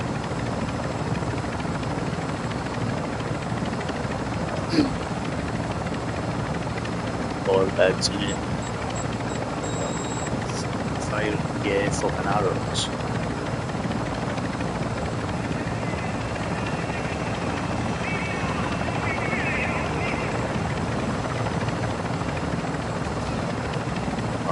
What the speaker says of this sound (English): Oh, is that the fucking helicopter?